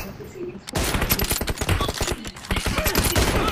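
Rapid bursts of automatic gunfire from an M4 rifle in the video game PUBG, loud and dense, rattling almost continuously with brief gaps and faint voices underneath.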